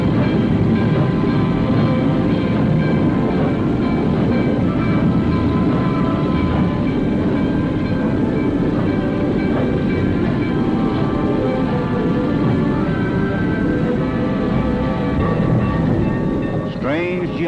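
A steady, heavy rumble of passenger and freight trains rolling along tracks in a 1942 rail yard, with continuous rattling and a faint squeal near the end, loud and unbroken throughout.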